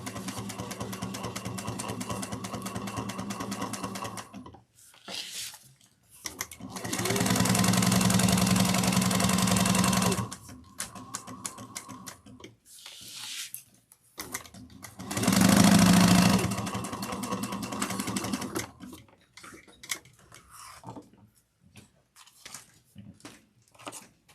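A sewing machine back stitches a train case in two firm bursts, roughly three seconds and then two seconds long, separated by quieter handling noise and soft fabric movement close by.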